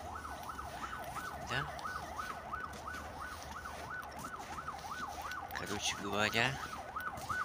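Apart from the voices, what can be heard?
ambulance siren passing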